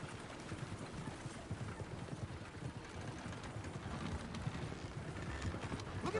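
Stagecoach horses clip-clop along in Red Dead Redemption 2, a faint, continuous patter of hooves over low rumbling, with no talking.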